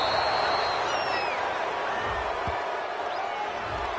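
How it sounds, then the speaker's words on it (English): A home stadium crowd in a football video game gives a broad, steady roar of cheering after an interception, sustained and fairly loud, with scattered thumps. "This home crowd, they're happy with that call."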